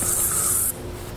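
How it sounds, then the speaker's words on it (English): Bug spray hisses out of an aerosol can in one steady, close burst lasting under a second, then cuts off abruptly. "Spray bug spray all over you"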